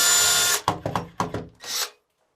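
A power drill in rotary-only mode, no hammer, with a 6mm bit, bores into a shower wall that has wood behind it: one long loud continuous whine, then several short stop-start bursts close by.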